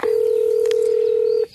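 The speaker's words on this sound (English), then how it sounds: "I'll pretend to call on my toy cell phone here." A toy cell phone gives off a single steady electronic dialing tone, loud and close, holding evenly for about a second and a half before cutting off abruptly.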